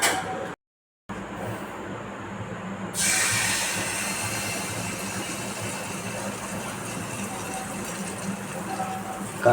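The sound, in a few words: jackfruit malpua frying in white oil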